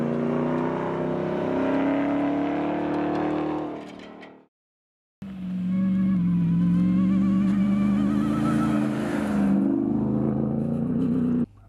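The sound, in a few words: Ram 1500 TRX exhaust pipe rumble while accelerating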